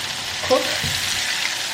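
Cumin seeds hit hot oil with a steady, close frying sizzle, a brief clatter as they drop in near the start, then continuous crackle with no voices.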